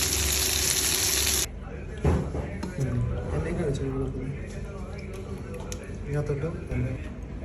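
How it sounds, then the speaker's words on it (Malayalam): A mackerel coated in turmeric paste hits a hot pan with a loud hiss that drops to a steady sizzle. A person talks over the frying. "അവനെ അങ്ങോട്ട് വറുക്കാൻ പോവാം."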